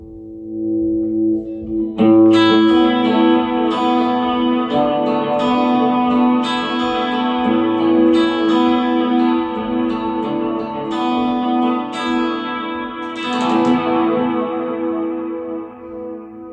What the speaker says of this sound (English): the repeats of the delay would be chorused, and so they're sort of modulating and detuning in pitch as the echo fades away